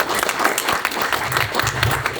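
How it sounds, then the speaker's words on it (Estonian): Audience applause closes a tribal-club lecture evening with an ethnologist on a Yamal Nenets film series: dense, steady clapping from a crowd, close and fairly loud, sustained without a break for a couple of seconds. "Teeme nüüd suur aplausi veel kord Liivole."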